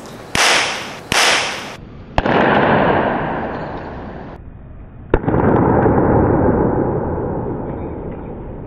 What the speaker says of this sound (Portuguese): porque os dois capacitores explodem.